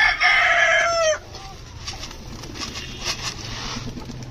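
A rooster crows loudly and close by, a single long call, followed by softer scattered clucks and pecking sounds from chickens in a coop.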